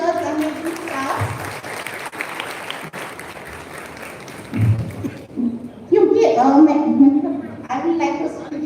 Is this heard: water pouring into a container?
no